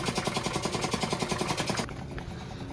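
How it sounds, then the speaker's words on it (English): A cheap, worn air compressor chugs in a rapid, even pulsing rhythm, close and moderately loud, then cuts off abruptly, leaving a quieter hum with faint background noise. "So I have actually a pretty shitty air compressor"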